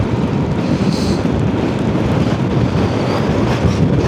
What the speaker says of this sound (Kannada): ನೋಡಿ ಎಷ್ಟು ಗಾಳಿ ಇದೆ ಅಂತ ಜಸ್ಟ್ ಇಲ್ಲಿ ನಿಂತು ತೋರಿಸ್ತೀನಿ ನೋಡಿ.